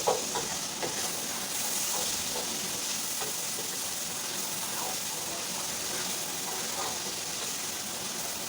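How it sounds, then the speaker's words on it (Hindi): Masala fries in a pan and is stirred during home Indian cooking, giving a soft, steady sizzle and hiss with faint scraping stirs, quiet and continuous with no talking. "अच्छे से इसकी भुनाई करते हैं"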